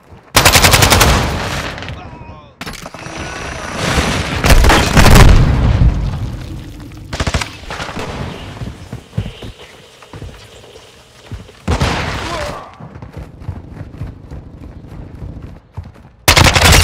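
Loud bursts of gunfire and booms in Call of Duty: Modern Warfare II, with several heavy volleys and rapid automatic fire separated by quieter stretches, and voices calling out between them.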